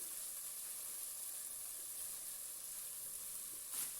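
Ground dry coriander is roasted in a pan, giving a faint, steady high hiss of frying. One brief clink comes near the end, and there is no talk.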